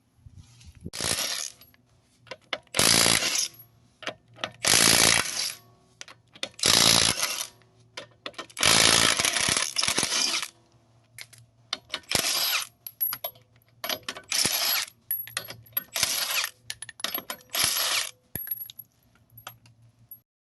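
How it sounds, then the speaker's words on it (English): Socket wrench spinning 21 mm lug nuts off a 2012 Mitsubishi Lancer, with repeated bursts of ratcheting and clicking separated by short pauses, close and fairly loud, with no voices. "just take this lock key off, and you get the rest of these lug nuts off, which are actually 21s"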